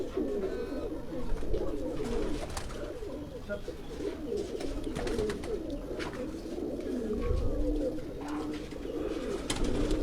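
Many pigeons at a keeper's loft coo continuously in overlapping, murmuring calls, with occasional clatters and rustling among the flock.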